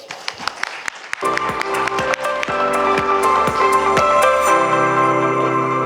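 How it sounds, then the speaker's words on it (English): An audience at an investment conference gives crisp, scattered claps that run into a swell of sustained musical tones, with clapping continuing underneath. "Applause"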